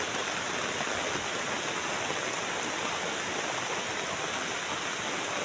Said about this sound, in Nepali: खोला भन्दा पनि यो चाहिँ खोल्सी हो। खोल्सीमा त पानी आएर